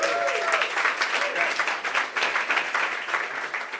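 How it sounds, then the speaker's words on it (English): A round of applause from a hackathon crowd, steady and fairly loud clapping from many people throughout, with a voice briefly audible over it. "Let's get another round of applause."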